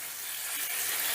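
Fried onions (beresta) sautéing with rice in a pan for an aloo yakhni pulao, giving a soft, steady, close sizzle with no talking.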